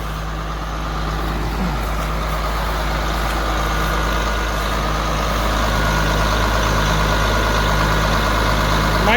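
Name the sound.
John Deere 4250 tractor engine idling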